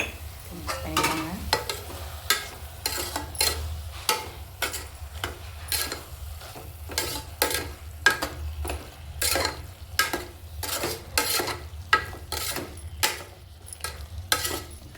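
Food frying in a pan and being stirred and mixed, with a steady sizzle under frequent rhythmic scraping strokes of a spoon against the pan, close and continuous, no speech.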